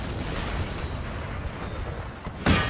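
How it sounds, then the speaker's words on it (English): Booming artillery fire in the battle game Empire: Total War rolls on as a low, continuous rumble, with one sharper, louder blast near the end and no voices. "Let's keep these artillery going."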